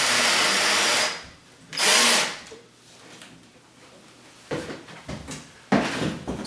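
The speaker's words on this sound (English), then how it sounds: "Now I'm continuing with installing the rest of the screws." A power drill drives screws into a closet organizer rail: two loud whirring bursts near the start, then quieter handling knocks and clatter as parts are moved, with no speech.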